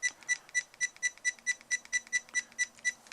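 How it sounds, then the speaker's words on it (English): A Kitvision Escape action camera gives a rapid series of about a dozen short, high, even beeps at a steady pace, close and clear with no talking. "Beep, that beep that you hear now"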